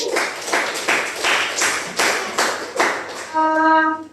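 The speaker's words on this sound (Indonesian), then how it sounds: "tepuk tangan dulu untuk temannya" A classroom of students claps together for a classmate in about eight evenly spaced, unison claps, followed by a short sustained electronic tone at the end.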